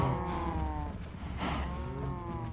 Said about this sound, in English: I heard some cows die